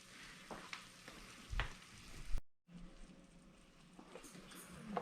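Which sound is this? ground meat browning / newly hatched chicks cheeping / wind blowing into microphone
ground meat browning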